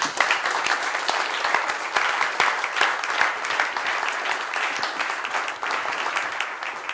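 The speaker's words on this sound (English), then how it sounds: "Should give Henrik a big applause now." Audience applause from a gathered crowd after a talk, dense and sustained clapping filling the room at a steady level throughout, with no voices over it.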